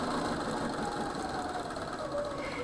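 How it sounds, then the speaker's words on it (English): A sewing machine stitches across a seam in a pieced quilt block, a steady, fast mechanical whirring rattle heard up close without pause. "I can sew all the way up to the seam before, and one stitch across that seam before I have to pull the pin"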